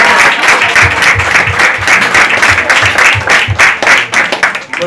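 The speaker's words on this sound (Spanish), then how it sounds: "ya aplaudamos con el hermano Paul" A church or homeschool gathering audience applauding together, loud close rhythmic clapping from many hands that holds steady and then begins to thin out near the end.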